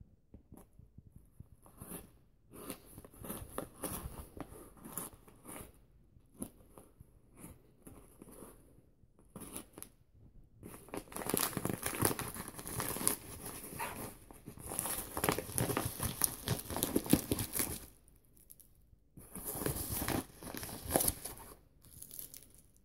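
A well-wrapped eBay package is torn open by hand, with irregular bursts of crinkling plastic and ripping tape, quiet at first and then growing louder in dense stretches.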